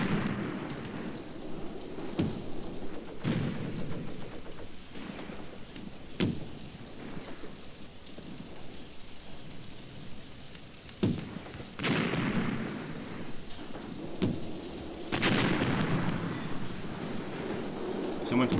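Bombs burst around a town in Graviteam Tactics on the Mius Front, several deep, scattered booms spread across the stretch, with a low rumble between them and someone talking over them.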